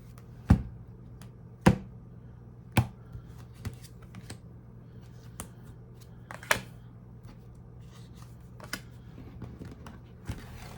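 A deck of cards being handled for a reading, giving a series of soft crisp snaps and riffles at irregular intervals, close and fairly quiet, with no talking.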